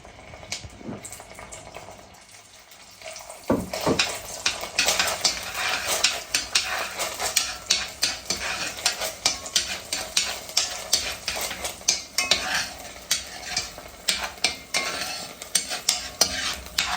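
Ginger garlic paste sautés in hot ghee while being stirred. A loud, close sizzle comes with rhythmic scraping strokes of the spoon against the pan, and no one speaks.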